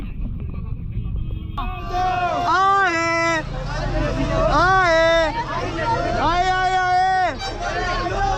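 A large crowd of pilgrims at the Ekvira Aai palkhi procession near Karla Caves, a dense continuous hubbub of many voices with repeated loud chanting calls rising above the babble, close and steady throughout.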